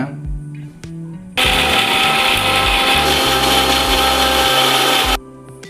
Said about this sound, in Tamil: இப்போ மிக்சி ஜாரில் போட்டிருக்கேன் அரைச்சிக்கலாம்